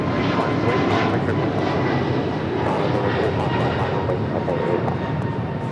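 An airliner rolls for takeoff on runway 25 right at LAX, engines producing a loud, continuous rushing roar with faint clicks on top, no talking.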